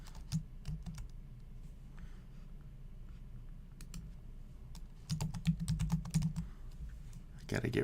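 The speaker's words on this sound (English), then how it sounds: "having a hard time typing" Computer keyboard typing comes in quick bursts of close clicking keystrokes, with pauses between them and a denser flurry near the end.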